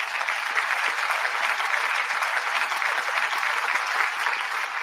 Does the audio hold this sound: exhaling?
no